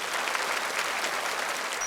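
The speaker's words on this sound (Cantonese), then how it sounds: "我覺得係好值得去俾啲掌聲佢㗎" An audience at a children's and youth Cantonese opera excerpt competition claps in sustained, dense applause, steady and fairly loud throughout with no break.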